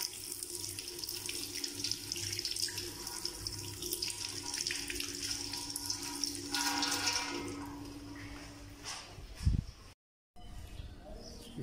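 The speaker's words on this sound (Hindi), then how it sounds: "इसको धो लेंगे थोड़ा।" Tap water runs steadily over raw mangoes being washed, a constant splashing rush in a sink that continues for several seconds before a brief clunk and a short break.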